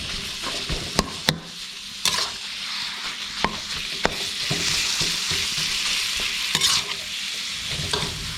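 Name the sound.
stir-frying pork larb in oil in a wok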